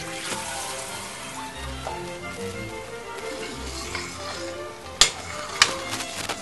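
Cooked spaghetti rinsed under running water, a steady, close hiss that lasts throughout, with two sharp clinks near the end.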